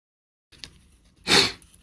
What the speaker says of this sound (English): So I've got the sniffles